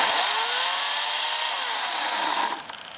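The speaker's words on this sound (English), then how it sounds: "I love this chainsaw." An EGO 14-inch 56-volt battery chainsaw runs at a high, buzzing pitch, its tone dipping and rising as it bites, then easing off and winding down near the end.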